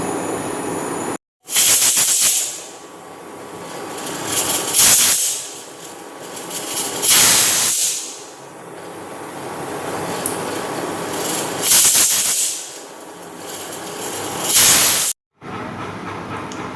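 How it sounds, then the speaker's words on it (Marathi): A pressure cooker whistle hisses in several loud bursts of steam, separated by a steady, quieter hiss in between. "शिट्टी निघाली त्याची."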